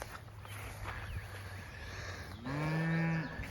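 Cattle being moved to a hillside paddock, with one cow giving a loud, sustained low moo near the end, preceded by fainter lowing amid outdoor farm ambience.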